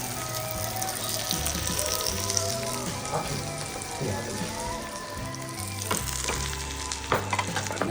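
Steady frying sizzle from a hot pan, crackling continuously with a few sharper pops, while people talk nearby.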